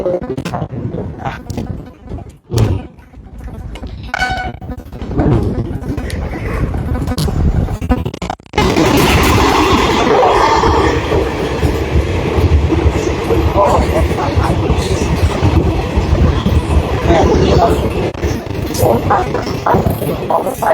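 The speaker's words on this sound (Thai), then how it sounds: "รถไฟเลยนะ" A train rolls past on an Indian railway, a loud roaring rumble with rattling carriages that swells after a few seconds and continues steadily to the end, with talk briefly heard at the start.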